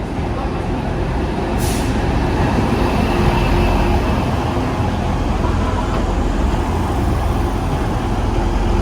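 Steady interior rumble of a train carrying passengers home to Cottingley, riding in the front unit, a continuous loud broadband roar of wheels and motors with a brief hiss near the start and no clear talk.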